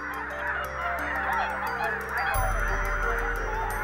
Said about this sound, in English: Whooper swans from northern Europe flock together in huge numbers.